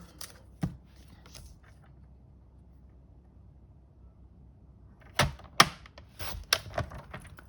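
A paper trimmer slices cardstock: one sharp cutting stroke, then a quiet stretch, then a quick burst of several crisp cuts and clacks close by, with no talking.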